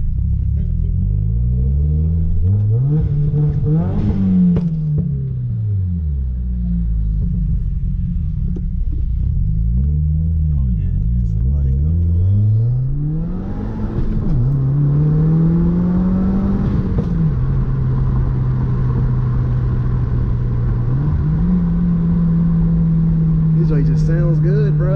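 A 2017 Subaru WRX engine with a MAPerformance intake revs up and down repeatedly, its pitch rising and falling in long sweeps, with a whooshing, vacuum-like intake roar and people talking over it.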